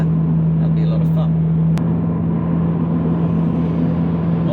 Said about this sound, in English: Currently driving along the A1M